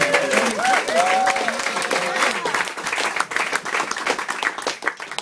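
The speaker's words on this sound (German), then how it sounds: "Auch das könntet ihr mit einem Applaus begleiten." An audience applauds a band at a concert in Germany, a full roar of clapping with some cheering that stays loud and dense throughout, with traces of voices early on.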